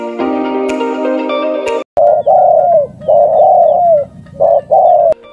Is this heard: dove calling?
yes